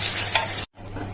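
Water added to a pan of sizzling, well-fried masala for chickpea ghugni, with boiled potatoes already in: a loud, close hiss and crackle that cuts off abruptly, then a quieter bubbling simmer, no voices.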